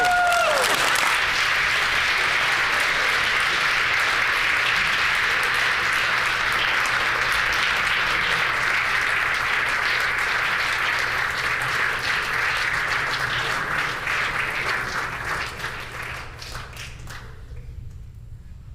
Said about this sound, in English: I invite my colleagues to join me in applauding the Dakota Collegiate Lancers for their extraordinary accomplishments in sports this past season